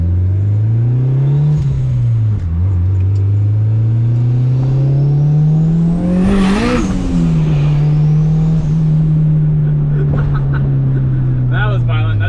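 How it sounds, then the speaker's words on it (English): A boosted Honda Civic with a stage 4 competition clutch accelerates hard with a loud, droning engine note that climbs through several gear changes, heard from inside the car with wheel spin, while voices speak over it. "A little bit of wheel spin."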